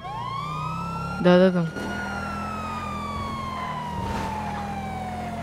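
A Romanian police car siren gives a loud, close burst of rapid wailing yelp that cuts off after about half a second, then a steady engine drone continues. Someone says a single word.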